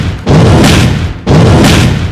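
Two heavy booming bursts, each a dense roar of overlapping blasts lasting about a second, loud and close, from Yi Sun-sin's rain-of-shots skill in a video game.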